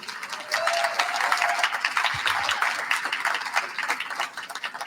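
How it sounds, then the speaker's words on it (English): A crowd applauds steadily, a dense wash of many hands clapping at a moderate distance, sustained throughout with no talking over it. "let's go ahead and give them a big round of applause"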